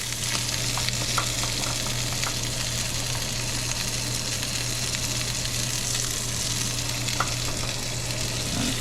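Steady sizzling and crackling of artichoke hearts frying in a pan, continuous and close, with a low constant hum underneath and no talking.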